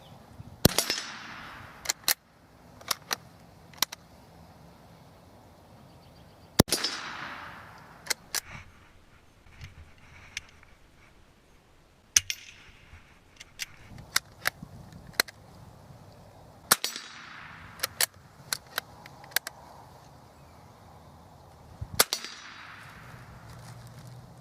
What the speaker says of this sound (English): So the next 5 rounds are going to be pointed right at the head of the target, standing from 25 yards.